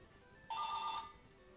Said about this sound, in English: Sorry about the telephone ringing.